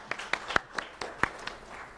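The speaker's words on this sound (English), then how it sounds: "Round of applause for David Martin." Sparse, scattered clapping from a small audience at a school recognition event for a student, individual claps distinct and irregular, fairly quiet.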